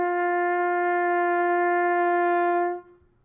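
A trumpet sounds a single open G, a bright, steady sustained tone held close for nearly three seconds before stopping cleanly.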